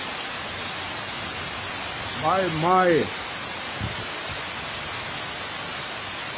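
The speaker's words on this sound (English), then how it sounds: "This is a serious thunderstorm." Heavy rain pours down during an August thunderstorm in Jamaica, a loud, steady hiss with no gaps. A person's voice rises briefly above it partway through.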